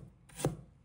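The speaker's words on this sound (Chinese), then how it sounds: "准备1块生姜，把它切成片" A single crisp chop of a knife through a piece of fresh ginger on a cutting board, close and brief in a quiet kitchen.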